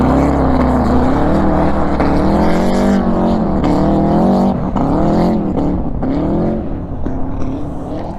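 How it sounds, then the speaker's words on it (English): A Subaru drift car's engine revs loud and close at Myrtle Beach Speedway, a steady roar with repeated rising and falling revs throughout, tapering slightly at the end. "Drift Subaru."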